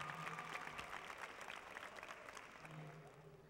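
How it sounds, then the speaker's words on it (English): Applause for honored teachers from an audience, steady clapping with crowd murmur and voices mixed in, moderately distant and sustained over a few seconds. "Let's give these folks a big round of applause."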